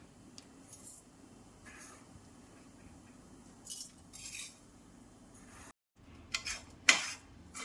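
Scattered metallic scrapes and clinks of a utensil against a pan, quiet at first, then a few louder knocks near the end.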